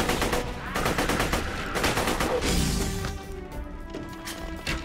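Rapid automatic gunfire in the video game Tiny Tina's Assault on Dragon Keep rattles in fast bursts, loud and close, with sharp repeated shots that thin out toward the end.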